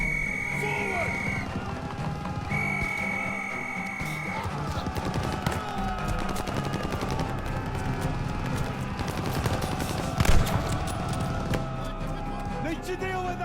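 Sustained machine gun fire in the World War II shooter Call of Duty Vanguard, a continuous rattling stream of shots under shouted orders and battle noise, with a heavier blast near the end.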